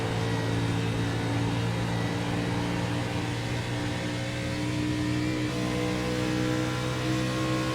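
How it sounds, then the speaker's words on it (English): Race car engines drone loudly and steadily as two cars run side by side down the back stretch in a racing game, a sustained dense buzz without pause. "Look at both of these cars drag racing each other down the back stretch."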